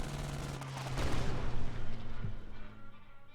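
Artillery barrage effect from the WWII card game Kards, a dense rumbling burst of booming fire that swells midway and fades out, loud and close with a low steady tone underneath.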